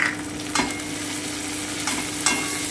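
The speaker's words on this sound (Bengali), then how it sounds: "খুব ভালো করে একটু ভেজে নিচ্ছি।" Tomatoes fry in a pan with a steady close sizzle, broken by a few sharp scraping stirs of a utensil against the pan.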